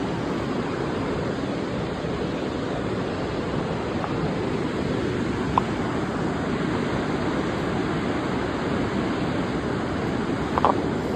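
Steady broadband rush of waterfalls beside a mountain lodge at Gangotri, a constant roar with no breaks and a few faint clicks.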